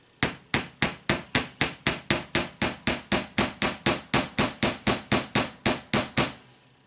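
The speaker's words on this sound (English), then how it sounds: "While I'm hammering, I'm going to try to pull my hammer in several directions" A hammer strikes a small metal rivet on jewelry pieces some twenty times in a steady, even rhythm, each sharp metallic tap close and loud with a short ring after it.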